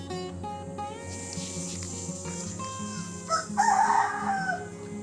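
A rooster crows loudly and close, one long drawn-out call rising over a background of other birds and farmyard clucking.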